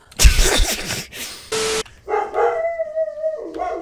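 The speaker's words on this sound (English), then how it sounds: "let's see what my dog's want" A dog barks a few sharp times up close, followed by whimpering, whining yips; one short electronic tone sounds in between.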